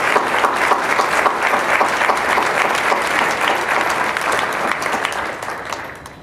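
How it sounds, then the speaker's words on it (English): Sustained, dense applause fills a graduation hooding ceremony hall as the crowd claps for the graduates' family and friends, steady throughout before easing slightly at the end. "join me in applause for the family and friends of our"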